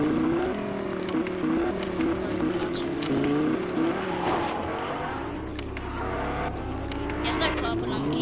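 A Lamborghini being driven, its engine droning and shifting in pitch with tire noise, steady and moderately loud while people talk over it.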